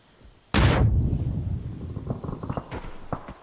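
A single loud grenade blast in the PUBG battle game sets off an abrupt boom that fades over about half a second, followed by faint footsteps and small clatters.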